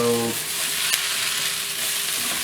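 Taro root (arbi) masala crisping in a pan, a dense continuous sizzle with stirring, loud and close, preceded by a brief low hum at the very start.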